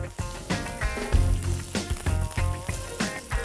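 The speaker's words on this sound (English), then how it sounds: "A little bit of olive oil in the pan and pork in, skin side down." Pork chops sizzle skin side down in olive oil in a hot pan, a steady loud crackling fry with bursts of spitting pops throughout, close up with no talking.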